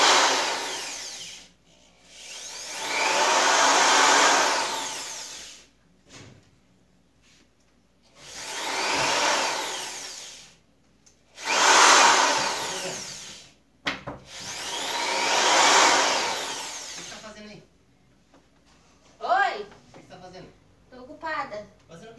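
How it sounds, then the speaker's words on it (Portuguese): A power drill whines in several separate bursts of a few seconds each, with short pauses between, and voices chatter in the gaps. "eu vou começar a fazer barulho com a furadeira."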